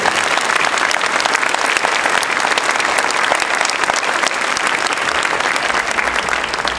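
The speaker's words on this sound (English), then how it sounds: "So a big round of applause and congrats to them." Sustained applause from a sizable school concert audience, dense steady clapping that stays loud and even throughout with no speech.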